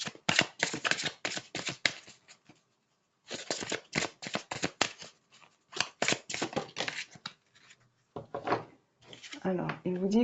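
Oracle cards are shuffled in rapid papery riffles and flutters, coming in several quick bursts with short pauses between them. A voice talks briefly near the end.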